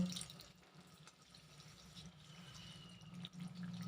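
Strained black tea liquor trickles from a strainer into a pot of chicken, a faint steady pour with soft drips and splashes against a quiet kitchen background.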